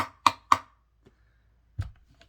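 Mallet striking the second heaviest paint can, its lid somewhat beat up: two sharp ringing hits in quick succession, then a duller thud and a faint tap after a pause, close and alone.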